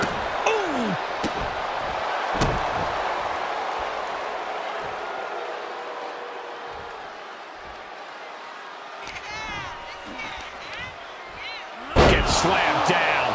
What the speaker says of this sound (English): Slammed down.